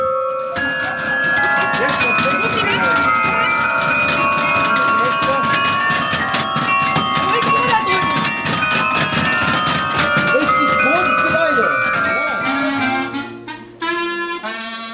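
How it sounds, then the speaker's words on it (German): A carillon of 37 bells in the roof of a town hall tower during a museum night in Gera, a dense, loud, continuous peal of overlapping ringing tones that thins out near the end, with voices mixed in. "wie man den 37 Glocken im Dach des Rathausturmes Töne entlocken kann"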